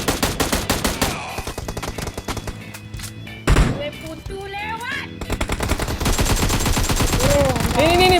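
Rapid automatic gunfire sprays in PUBG Mobile, with dense bursts of loud shots firing again and again, a heavy thud partway through, and voices talking over the shooting.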